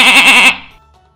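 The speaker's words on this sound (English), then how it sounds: "The goat." A goat gives one loud, wavering bleat close up, lasting about half a second and then dropping to silence.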